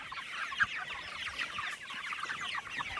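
Pasture-raised chickens cluck steadily while foraging outdoors, a dense overlapping chorus of soft clucks at moderate distance with a faint outdoor background.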